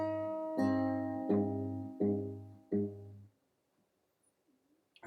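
Fingerstyle guitar plays a short phrase from a song: five plucked note clusters in steady rhythm, close and clear, each ringing briefly before the last fades into near silence.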